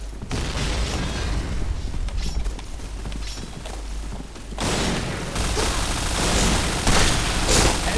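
An explosion in the online shooter game Point Blank: a sudden loud, broadband blast that leaves a sustained crackling roar afterward, set among ongoing in-game clatter.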